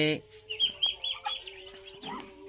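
A farm duck sits with her newly hatched ducklings. Thin, high peeping calls come in soft, close bursts over a quiet background, with a brief low sound at the start.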